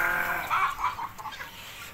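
Aseel rooster being readied for fighting, giving a short, fairly faint crowing call with a few wavering clucks at close range and no talk.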